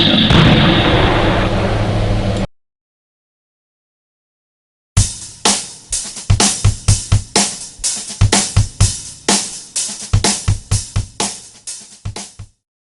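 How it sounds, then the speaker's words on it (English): Blank rounds fired inside an enclosed area: after a loud noisy stretch and a silent gap, a rapid series of about twenty sharp, booming reports rings out in close succession, each with a short reverberant tail, very loud and near. "In this next clip, blanks were used in an enclosed area."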